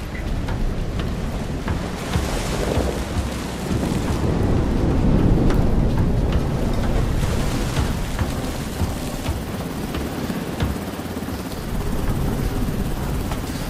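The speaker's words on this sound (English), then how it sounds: "It's raining." Steady rain falls on an abandoned ship, a dense, loud wash of hiss and patter that continues without pause, with no talking.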